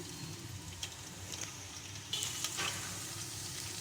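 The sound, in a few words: onion frying in hot oil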